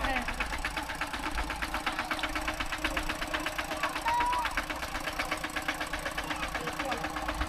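A farm tractor carrying a full load of passengers runs steadily nearby with a rhythmic knocking chug throughout, people talking over it.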